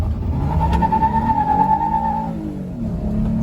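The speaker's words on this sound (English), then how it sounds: "first gear, floor it." A Kia minivan, said to make about 300 hp, accelerates hard in first gear with the pedal floored. A steady engine drone rises in pitch under a tonal whine and stays loud and close throughout.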